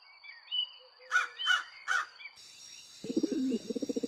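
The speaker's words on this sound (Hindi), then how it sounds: "ये तो मौसम के जानकार पंछी है।" Crows caw three times in quick succession at moderate distance, followed by a higher steady bird or insect tone and a rapid chattering call, all faint and with no talking.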